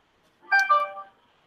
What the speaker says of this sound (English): That was my phone giving me a notification.